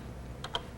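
Two quick keystrokes on a Color Computer home computer keyboard, crisp isolated clicks a fraction of a second apart over a low hum.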